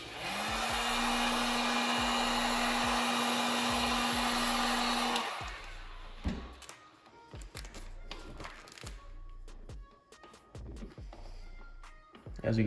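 Heat gun blowing hot air onto vinyl wrap film over the hood scoop of a 2006 Subaru WRX, a steady loud whooshing hum for about five seconds, then cutting off to leave scattered taps and handling knocks.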